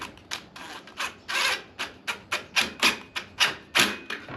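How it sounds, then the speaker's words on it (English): A power drill drives 1¼ inch screws into wood casing installed over vinyl siding, heard as a rapid series of close, rasping whirring bursts with a strong, even rhythm and no talking. "Now it's just a matter of running our 1¼ inch screws in."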